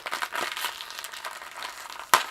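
Foil blind box packaging torn open by hand, a continuous close crinkling and crushing with one sharp rip near the end, with no talk.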